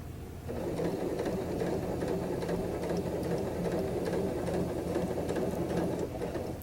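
A sewing machine runs steadily and close up for about six seconds, stitching slowly and carefully around a tight inside curve seam after a brief quiet start.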